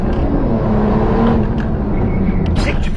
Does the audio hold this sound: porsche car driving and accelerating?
yes